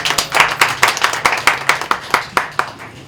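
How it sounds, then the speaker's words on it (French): Applause from an audience at a New Year's wishes ceremony: a steady run of about a dozen sharp, loud hand claps in quick rhythm, close by and without talk. "Cela, ça s'applaudit."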